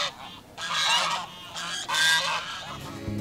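An Egyptian goose honks loudly and close by in repeated harsh, strained calls, several hoarse blasts in a row, with a low thump at the very end.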